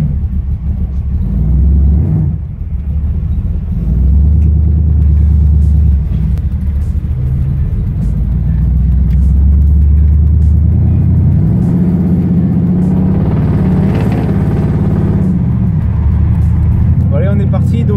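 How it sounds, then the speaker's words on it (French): A 1976 Chevrolet Camaro with a 350 V8 rumbles and revs loudly while driving on a racing circuit, engine rising and falling under steady talking from people inside the car. "on va partir dans la Camaro pour un petit tour de reconnaissance"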